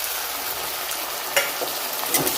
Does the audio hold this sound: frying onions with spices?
yes